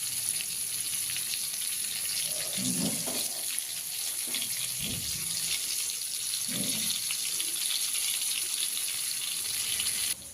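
Pointed gourd (potol) frying in oil in a pan for a Bengali posto dish gives a steady, loud, close sizzle throughout, with a few soft stirring knocks underneath and no talking.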